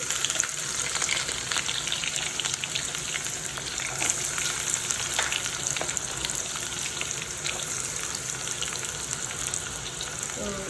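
Oil sizzles and fries steadily in a pan as green chillies go in for a chicken curry, a loud, continuous crackling hiss with faint stirring and no talk.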